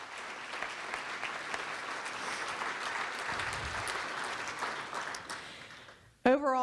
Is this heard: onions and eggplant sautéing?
no